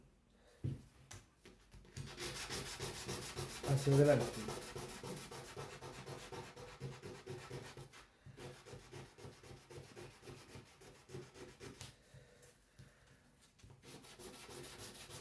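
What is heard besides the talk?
sanding wood by hand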